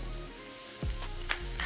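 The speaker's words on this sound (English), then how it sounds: "gonna take those onions and garlic that we chopped up earlier, get them into the pan, get a quick stir on them" Chopped onions and garlic hitting a hot pan for spaghetti sauce, a soft hiss that jumps into a brief louder sizzle with a clatter of stirring, short and close.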